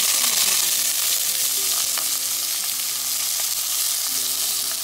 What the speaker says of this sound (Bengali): আমি এখানে পেঁয়াজ রসুন আর কাঁচা মরিচ ভালো করে ভেজে নিচ্ছি তেলে